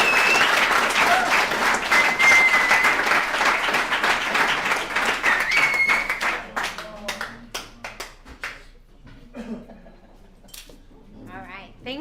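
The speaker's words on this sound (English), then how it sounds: "Let's give Justin another round of applause." A room of people at a recovery alumni meeting claps loudly and steadily for a speaker for about six seconds, then the clapping thins into scattered claps, shuffling and low murmurs.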